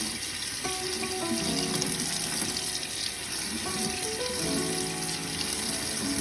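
Water running from a kitchen tap over tomato seeds during a wash, a steady close splashing stream that holds throughout with faint clinks and movement beneath it.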